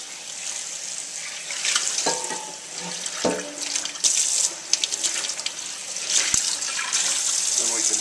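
Cast iron cookware is scrubbed under a running tap, a steady rush of water with scraping, clunking handling noises close by, and someone talking now and then.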